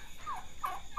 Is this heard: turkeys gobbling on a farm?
yes